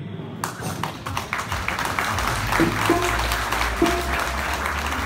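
Live audience at a Punjabi concert in California breaks into applause, a dense wash of clapping that holds steady from start to end with a few louder taps and thumps poking through.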